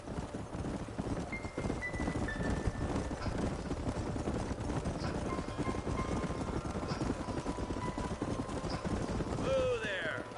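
Horse hooves clip-clop steadily in the Red Dead Redemption video game, a group riding through a canyon in the Western frontier of New Austin, under continuous wind-like noise and a voice talking.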